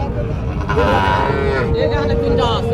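Sahiwal cattle moo loudly and close by in a long, drawn-out low call, with a second moo following, over steady outdoor background noise.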